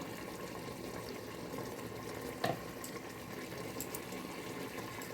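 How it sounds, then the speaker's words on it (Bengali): Water is poured into a pan of katla fish with mustard, giving a faint, steady watery hiss and bubbling with a brief splash midway and no talk. "আর একটু জল দিয়ে"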